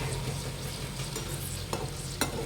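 Corn fritters (bhaji) fry in hot oil over medium heat, a steady bubbling sizzle close by with a couple of light utensil clicks near the end.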